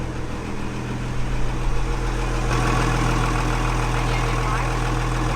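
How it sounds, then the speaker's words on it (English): Boat engines on a cheap $100 boat idle at the dock while warming up, giving a steady, constant low rumble and hum with no change in pace throughout. "we had the engines warming up"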